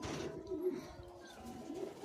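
Pigeons coo softly in a low, continuous murmur, with a few brighter coos standing out over steady background noise.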